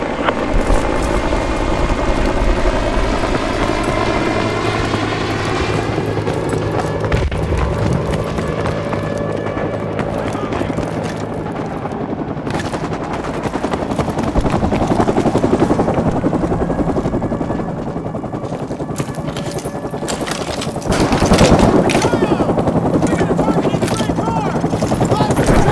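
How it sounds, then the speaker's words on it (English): An attack helicopter in the video game Call of Duty: Modern Warfare 2 Remastered thumps and whines loudly throughout, layered with gunfire bursts, impacts and battle noise, while voices speak over the action. "take down that helicopter"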